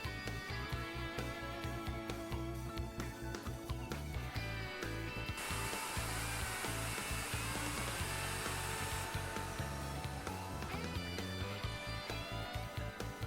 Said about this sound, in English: Plunge the router and route the second tenon.